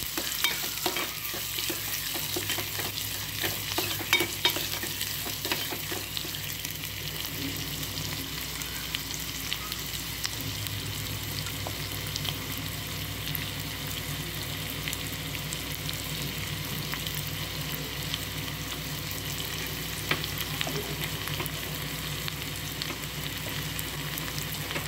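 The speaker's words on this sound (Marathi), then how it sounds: "आता कांदा परतवून घेऊया छान असा" Onion sautéing in a pan for a dry-masala oyster fry gives a steady, close sizzle with frequent scrapes and clinks of a spatula stirring. It stays even and continuous throughout, with no talking.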